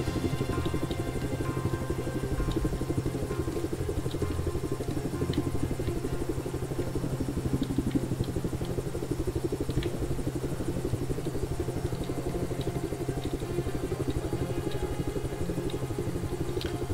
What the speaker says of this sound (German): Also eigentlich das mit dem Heli fliegen wird schon langsam.